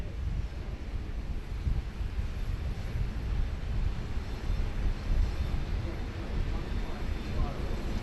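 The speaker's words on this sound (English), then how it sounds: "There she is, the Lunchtime 800, just crossing 16 right there on taxiway Golf." A Boeing 747-800 airliner taxis across runway 16 on taxiway Golf at Sydney Airport, a distant low engine rumble and roar blended with wind buffeting on the microphone, steady and fairly faint.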